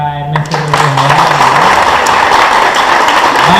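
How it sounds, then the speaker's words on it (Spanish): An audience at a Spanish lecture on reading applauds the speaker, Ernesto Rodríguez: dense, steady clapping that rises quickly after a brief voice and carries on evenly at close range. "Un aplauso otra vez a Ernesto Rodríguez."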